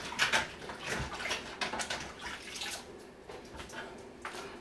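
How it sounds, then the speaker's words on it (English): Running tap water splashes over hands being washed in a home kitchen, a faint, steady trickle with soft splashes and no talk. "Let me wash my hands."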